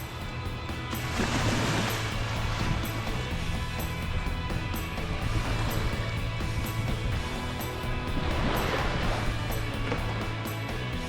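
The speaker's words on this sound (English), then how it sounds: "we walked down the road to the closest beach" Surf on a beach in Antigua, with waves breaking and washing ashore in slow swells about every four seconds, a steady mid-level roar with nobody speaking.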